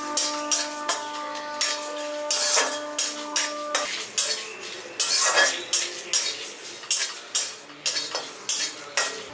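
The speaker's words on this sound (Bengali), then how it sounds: "এবার সমস্ত মশলাগুলোকে, গোটা মশলাগুলোকে হালকা করে ভেজে নিচ্ছি" Whole spices, including coriander seeds and dried red chillies, are dry-roasted in a pan in a village-style kitchen, with a steady, rhythmic scrape-and-clink of the stirring spoon repeating closely about once a second.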